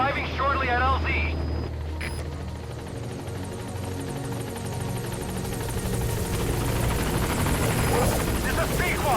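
A support helicopter arrives at a landing zone in the Metal Gear Solid V video game. Its rotor thrum and engine drone run steadily throughout beneath a brief radio-style voice.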